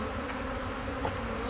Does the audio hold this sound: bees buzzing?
yes